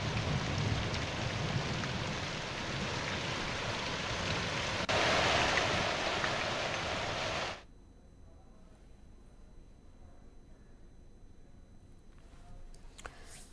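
Heavy unseasonal rain with hail pounds down over farm fields, a loud dense roar that swells briefly and then cuts off abruptly partway through, leaving a faint background.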